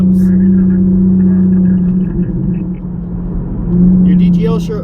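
A car engine droning at high RPM while driving through Bakersfield, California, a loud steady hum that swells and eases, heard alone at close range.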